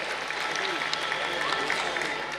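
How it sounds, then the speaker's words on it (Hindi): Audience at a school ceremony applauding in a dense, sustained wash of hand claps, steady and fairly even throughout the short stretch, with no pauses. "एक बार जोरदार तालियां, तालियों की गड़गड़ाहट रुकनी नहीं चाहिए"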